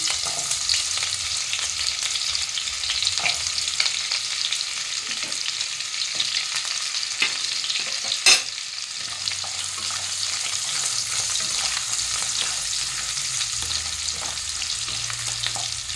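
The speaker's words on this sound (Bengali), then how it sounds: "আমি অল্প আলু দিয়ে আলুটাকে আগে ভালো করে ভেজে নেব" A small batch of potatoes fries in oil for a Bengali fish-roe curry, giving a continuous, moderate sizzle with occasional stirring scrapes and one sharp clink, and no talking.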